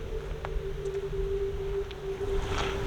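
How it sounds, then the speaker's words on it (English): Steady wind gusts buffet the microphone outdoors at a large classic car salvage yard full of Pontiacs and Catalinas, a continuous broadband roar with a low constant hum beneath it and no voices. "it's really windy out right now"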